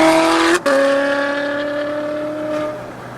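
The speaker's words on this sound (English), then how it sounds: "The NA Ferraris are the best when it comes to the pure sound." A naturally aspirated Ferrari with a straight-pipe exhaust howls loud and close in steady high-pitched tones, cuts out for a split second, then comes back with a sustained note that slowly fades.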